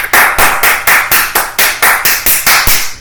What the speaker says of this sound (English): Give a round of applause for episode 44.